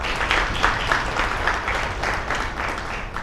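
Audience applause for the participants of an anti-hate alliance program at its inaugural awards event, a steady wash of many hands clapping at moderate volume with no talk over it.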